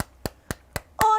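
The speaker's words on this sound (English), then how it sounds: "Give yourselves a round of applause." Sharp single hand claps from an exercise class arrive in an even beat, four crisp strikes spaced about a quarter second apart, followed by a brief louder ringing burst.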